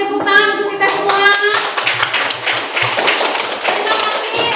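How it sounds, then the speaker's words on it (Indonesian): Primary school pupils in a fourth-grade maths class clap their hands together. A voice comes first, then a lively burst of uneven claps and taps, close and loud, lasts several seconds. "kasih tepuk tangan untuk kita semua"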